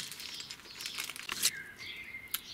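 A plastic bag crinkles and rustles in short, close bursts and scrunches, quiet overall, with no talking.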